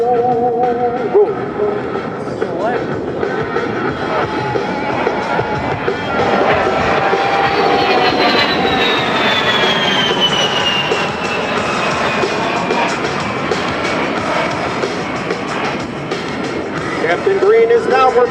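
An A-10 Warthog jet performing an air show display in Singapore roars continuously overhead with shifting, whining turbine tones, loud and sustained, while an announcer talks throughout.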